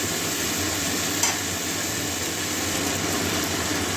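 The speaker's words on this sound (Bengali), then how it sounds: "দু মিনিট ভাজা করে নেব," Potatoes and long beans frying in a pan for a Bengali curry, a steady low sizzle with soft scraping from stirring and one brief clink, close and continuous, no voices.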